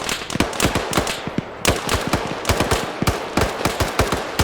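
Gunfire crackles in a military video game set in Afghanistan: sharp, loud shots come in rapid irregular bursts and scattered single cracks, unbroken from start to end.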